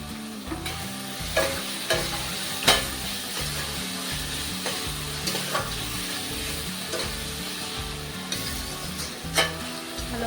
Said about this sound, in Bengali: এবার টমেটো কুচিগুলো দিয়ে দিলাম